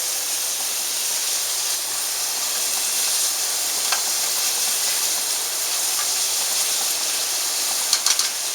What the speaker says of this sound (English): We're going to let that cook down just a little bit before we add our spaghetti squash.